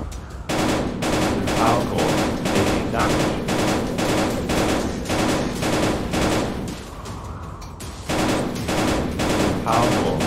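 Rapid bursts of automatic gunfire from a VR shooter video game, loud, repeated volleys in quick succession across the whole stretch with only brief pauses.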